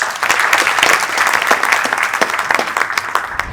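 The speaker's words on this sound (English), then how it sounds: "Please, a round of applause for them." Conference audience applauding a newly introduced pair of speakers, steady dense clapping at close range throughout, with no talking over it.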